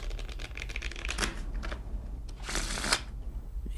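Playing cards shuffled for a card trick, giving quick riffling bursts close by with a brief pause between, no talking.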